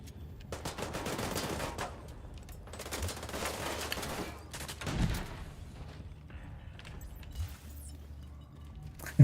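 Bursts of video game gunfire aimed at a target, several rattling volleys separated by pauses, moderately loud, with mechanical clicks between them.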